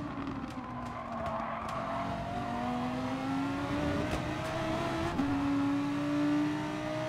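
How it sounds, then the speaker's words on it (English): A McLaren race car in Gran Turismo Sport accelerates hard, its engine note climbing steadily through the gears in a continuous loud whine, with other cars droning close behind. "Look at the McLaren go."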